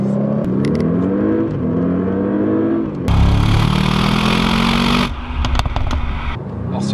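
A 2016 Audi S8 Plus with a 4-litre biturbo V8 accelerates out of a village, its engine note rising through the revs, pausing at gear changes, then surging louder in a roaring, whooshing pull as speed builds.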